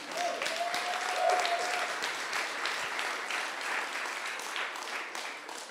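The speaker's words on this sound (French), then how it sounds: "Et on applaudit." An audience at a startup demo day in Paris claps together, a full, sustained burst of applause with a brief high tonal whistle or squeak early on, steady throughout.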